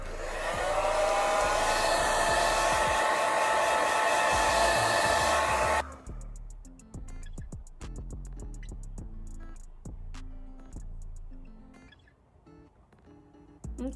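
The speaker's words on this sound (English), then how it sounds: "So now I'm about to blow dry it real quick" Hair dryer blowing on curly Malaysian hair extensions: a loud, steady broadband whoosh for about six seconds, then it cuts off, leaving quieter handling clicks and rustles.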